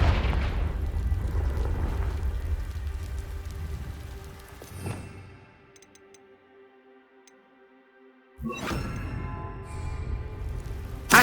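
A Confringo fire spell explodes in Hogwarts Legacy amid castle ambience, one sharp blast with a crackling tail, then a quieter ringing stretch before another loud burst of energy.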